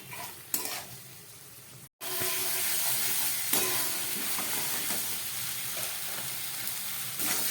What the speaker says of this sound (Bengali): এবার মশলাটা দিয়ে সব কিছু দিয়ে এবার খানিকক্ষণ আমি এটাকে কষাবো